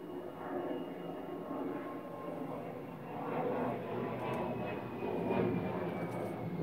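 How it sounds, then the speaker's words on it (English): A fixed-wing airplane drones overhead at a distance, its steady engine roar swelling and fading slightly over several seconds as a continuous background wash with no talk. "there's an airplane"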